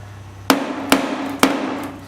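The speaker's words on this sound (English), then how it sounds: "I'm just gonna take my hammer" Three sharp metallic hammer blows strike a rusty Toyota Tercel body panel patched with 20-gauge steel, evenly spaced about half a second apart, close and ringing briefly, with no talking.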